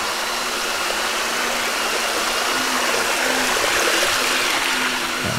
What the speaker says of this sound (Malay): air mengalir sikit je